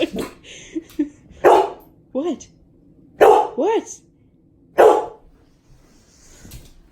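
A dog gives several sharp barks and yips at irregular intervals, fairly close, as people speak briefly between them indoors.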